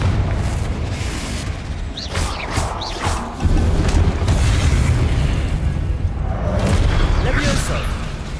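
Confringo blasting spell explosions in Hogwarts Legacy, heavy booming bursts with a deep rumble, one strong blast midway followed by sustained roaring, under a voice speaking.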